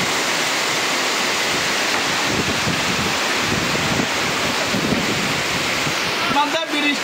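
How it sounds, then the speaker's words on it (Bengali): Heavy rain pours down steadily while a light, gusty stormy wind blows across the microphone, making a continuous roaring wash with slight swells. A brief rustle comes near the end. "এবং সাথে হালকা ঝোড়ো হাওয়াও বইছে"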